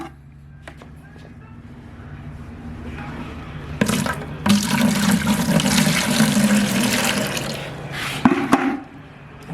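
Water is poured into white vinegar for a 50-50 rust-treatment mix, a rushing splash that starts quietly, swells into a steady loud pour for several seconds, then tapers off with a few drips and clunks nearby.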